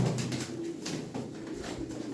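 Domestic pigeons, a female and a male kept together, coo softly and continuously at close range over steady background noise, with no talking.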